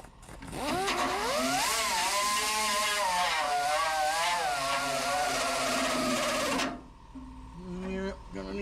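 A power tool grinds a car fender down to bare metal, a loud, close, sustained whine with wavering pitch lasting several seconds before cutting off, followed by faint sounds.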